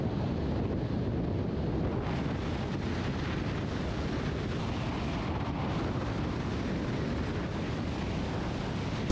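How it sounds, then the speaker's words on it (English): Strong wind roars and buffets steadily across the microphone at a causeway over brown floodwater after Hurricane Debby in Florida, a loud, unbroken rushing blast with no voices. "Also, it is super windy, even windier than it was on Siesta."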